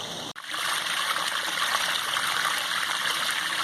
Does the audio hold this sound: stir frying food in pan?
no